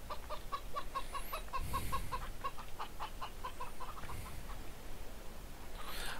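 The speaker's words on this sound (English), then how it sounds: "I don't know what to do with the chickens." Chickens in the Farming Simulator 2013 video game cluck in a quick repetitive run, faint and steady over a low background hiss, with a few higher calls.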